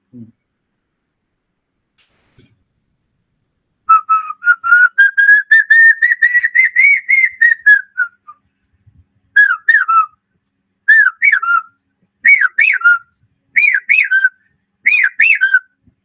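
A human whistler imitates the call of the common hawk-cuckoo (papiha): a long rising, wavering whistle, then a series of short, sharp repeated phrases in clear bursts, loud and close with no background.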